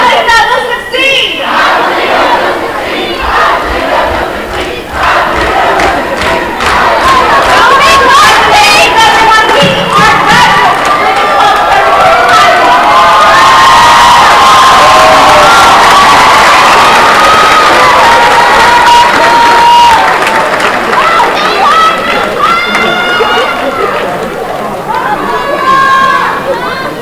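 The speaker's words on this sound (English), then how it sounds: "I'd like to do a chant that we all know. Feel free to join along" A large graduation crowd at Lincoln Prep chants together in a loud, continuous roar of mixed voices, with shouts and cheering swelling throughout.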